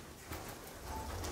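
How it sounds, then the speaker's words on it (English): Pigeons cooing inside a big old building at a disused RAF airbase, soft low coos repeating at a steady pace with faint rustling and room echo, fairly quiet and without talk. "Pigeons."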